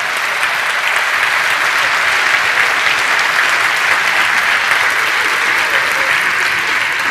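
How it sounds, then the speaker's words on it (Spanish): A live audience breaks into loud, sustained applause, with dense clapping that fills the whole stretch evenly and holds steady without fading. "Date el aplauso para la policía de Tucumán."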